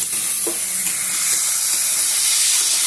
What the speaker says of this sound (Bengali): চিকেনটার মধ্যে এবারে আমি আদা রসুন বাটা দিয়ে দিলাম। দিয়ে ভালো করে আমি চিকেনটাকে একটু কষিয়ে নেব।